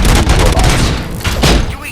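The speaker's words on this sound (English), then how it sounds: "Gunshots? What's going on?" Gunfire during a hospital attack in the video game RoboCop: Rogue City, a dense burst of loud overlapping shots and booms filling the whole moment, close and harsh.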